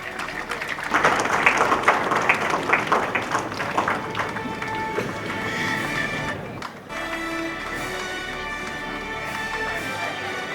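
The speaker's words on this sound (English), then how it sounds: "Big round of applause, please." An audience in an auditorium claps for several seconds at an awards ceremony, the applause fading out midway, followed by background music.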